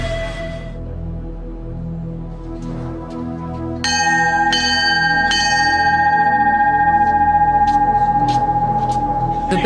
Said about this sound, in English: The bell sounds, and 8 more men ring out of Class 234.